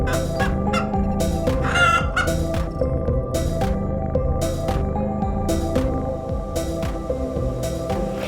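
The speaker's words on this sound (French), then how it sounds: "il y a 250 poules" A flock of about 250 hens on a French farm clucks continuously and loudly, with occasional louder squawks and a rooster-like call breaking through the dense chatter.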